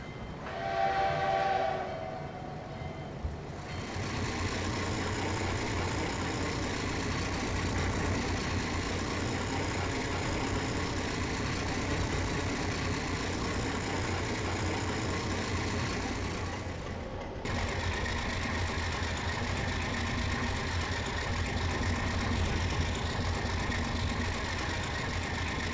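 A locomotive idles and a train rolls slowly while shunting cars in the Trainz 2022 railway simulator on a Moscow route, a steady heavy rumble and engine drone with a brief horn-like tone at the start.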